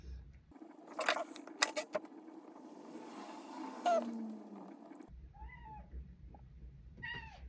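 House cat meowing indoors, a few short, faint mews near the end after a stretch of rustling and jangling handling noises.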